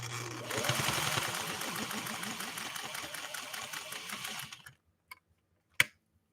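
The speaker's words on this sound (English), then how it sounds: "8 layers of denim on the bottom of these cuff areas. We'll see if we can stitch through it." A 1958 Singer 404 sewing machine stitches through eight layers of denim with a steady, fast mechanical hum and clatter for about four and a half seconds, then stops, followed by a couple of faint clicks.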